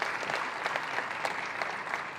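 Audience applause at the Ghana Digital Innovation Week launch, a dense, sustained patter of many hands clapping at moderate volume, with no voices over it.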